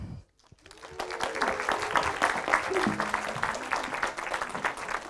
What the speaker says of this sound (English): Welcome her down here with a lot of applause.